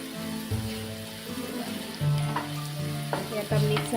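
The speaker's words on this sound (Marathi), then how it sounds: "आता आपण व्यवस्थित मिक्स करून घेणार आहोत" Vegetables frying in a pan as turmeric and garam masala are stirred in for a Maharashtrian bharang bhaji, soft sizzling with scraping stirs of a spoon against the pan, fairly quiet and close, no talking.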